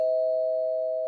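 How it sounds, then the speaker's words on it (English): Doorbell sound effect played alone: a single steady electronic chime tone held for about a second, clean and fairly loud with no talk over it. "Doorbell."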